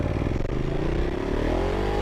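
Ducati Multistrada sport touring motorcycle revving hard through a power wheelie, engine note rising steadily in pitch over two seconds, loud and close under wind noise.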